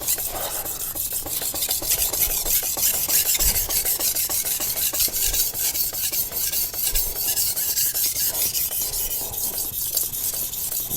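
A knife blade being stroked back and forth on a wet sharpening stone, a continuous rhythmic gritty scraping and rubbing at steady pace, close up with no speech.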